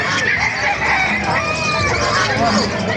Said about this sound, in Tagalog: Papakita ko sa inyo mga manok dito sa Kalumpit.